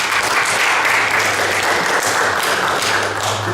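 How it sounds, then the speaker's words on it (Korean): A church congregation breaks into sustained, dense applause after news of a newborn, a loud continuous wash of many hands clapping with no speech over it. "하나님께 영광의 박수"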